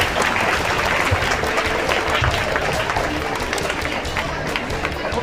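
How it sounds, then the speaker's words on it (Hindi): Loud, sustained applause from a school audience at a women's organisation event in South Delhi, dense clapping filling the hall steadily throughout with no voices on top. "जोरदार ताली हो जाएंगे इस बात के लिए।"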